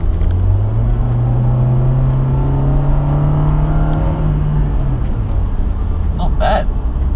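A 1.5-litre Toyota Rush engine pulls out of a junction, its low drone rising steadily in pitch as it accelerates for several seconds, loud and continuous, then settling as road rumble takes over.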